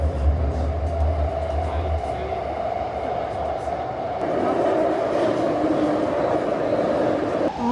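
Riding a Taipei metro subway train: a steady, loud rumble of the carriage in motion with a rising whine from the motors and rail noise, continuous throughout, with faint chatter beneath.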